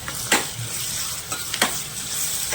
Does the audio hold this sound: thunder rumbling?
no